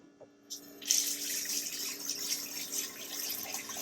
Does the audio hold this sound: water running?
yes